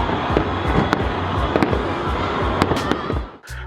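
Fireworks exploding at a celebration, a dense, loud run of cracking bursts and booms with sharp pops scattered throughout, ending abruptly in near silence.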